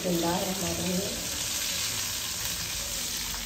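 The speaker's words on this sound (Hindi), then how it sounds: "घी हमारा जो है ना गर्म हो चुका है, तो हम जो है ना प्याज ऐड कर रहे हैं।" Onions frying in hot ghee give a loud, dense, continuous sizzle close to the pan, with a brief murmur of voice near the start.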